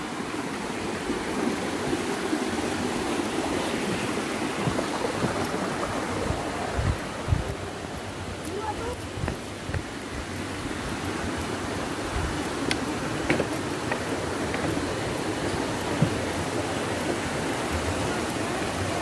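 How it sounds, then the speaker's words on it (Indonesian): River stream flowing near the Curug Cimata Indung waterfall in Sukasari, a continuous broad rushing wash of water heard close and steady with occasional small splashes and knocks, no talking. "Ini ada sungainya nih."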